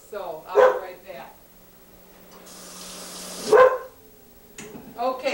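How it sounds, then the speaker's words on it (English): A dog barks twice in short bursts, loud and fairly close, in a home kitchen where a cooking show is being filmed, with a running water tap hissing between the barks. "the dog is barking again"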